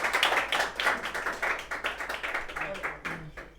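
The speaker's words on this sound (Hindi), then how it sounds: "जोरदार तालियां" Audience applause at a student award ceremony for toppers in Handia, Prayagraj, rising as a student is called up for an honour; claps ring out in uneven bursts, moderately near, with voices mixed in throughout.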